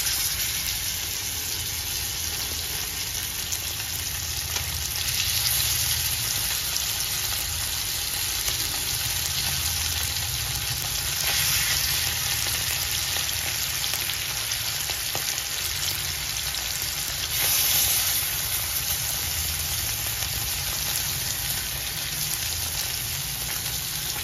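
Pieces of surmai and pomfret fish fry in a pan, a loud, continuous dense sizzle that holds steady throughout with slight swells, close up and with no speech.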